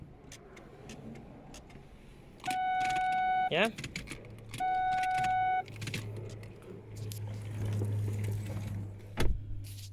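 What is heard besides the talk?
Ford Focus gear selector working after plugging back in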